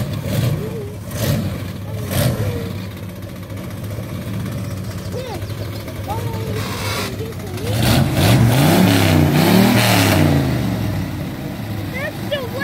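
A 454 big block Chevy engine in a square body tow truck revs in bursts, swelling louder toward the end, with people talking over it throughout.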